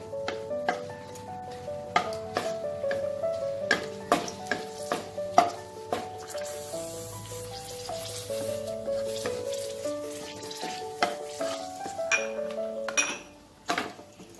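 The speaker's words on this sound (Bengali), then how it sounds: "এবার এই তেলে আমি প্রথমে তেজপাতাটা দেব, গোটা শুকনো লঙ্কাটাও দিয়ে দেবো।" Bay leaf and whole dried chilies sizzle steadily in oil in a pan with scattered clinks and scraping of a utensil, the frying growing louder midway and fading near the end.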